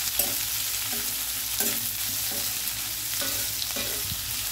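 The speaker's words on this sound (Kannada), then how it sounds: "ಇದನ್ನು ಹಸಿ ವಾಸನೆ ಹೋಗೋಲ್ಲೋರಿಗೆ ಫ್ರೈ ಮಾಡುವ" Sliced onions with ginger and green chilli frying in a pan for poori sagu, a steady close sizzle broken by several scraping stirs of a spatula, with no talk.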